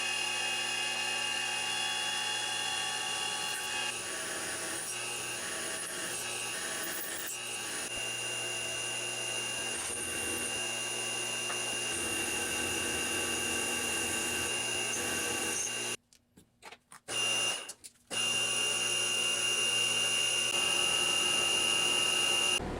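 Milling machine cutting features into a metal part for a DIY dyno driveshaft flexible coupling, a steady high whine with buzzing tones running continuously, briefly cutting out near the end before resuming.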